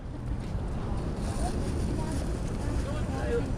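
A motorboat engine drones steadily and close by, a continuous low rumble mixed with wind buffeting the microphone, with voices faintly present.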